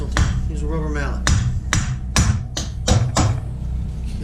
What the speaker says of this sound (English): Use a rubber mallet.